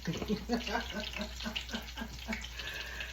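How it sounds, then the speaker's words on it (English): Tap water runs into a sink while canned green beans are rinsed, a steady splashing flow with soft rhythmic sloshing and clatter, fairly quiet and close. "You rinse them a couple of times."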